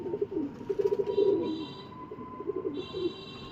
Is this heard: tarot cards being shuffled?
no